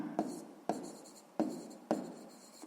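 A pen writes out a math solution on paper in four quick, soft strokes, each beginning with a sharp scratch that fades, heard close and quiet.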